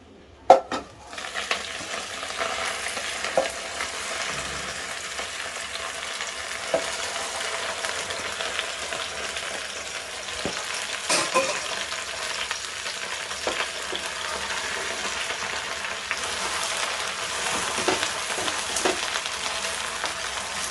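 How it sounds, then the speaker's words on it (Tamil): Gongura (sorrel) leaves sautéing in a pan for pachadi give off a continuous close sizzle, with scattered spatula scrapes and clinks and no talk. "இப்போ நம்ம கீரையை வதக்கணும்ல."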